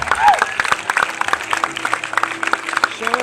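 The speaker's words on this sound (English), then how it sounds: "Good round of applause for Alex and Alex" Applause and cheering from an audience after a performance by two people, a dense patter of claps with whoops and voices mixed in, fairly close and lively, with talk over the top.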